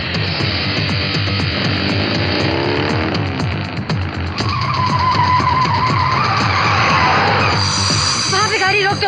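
A car speeds and skids hard, its engine roaring steadily with tires squealing across several seconds, loud and close throughout, with voices mixed in.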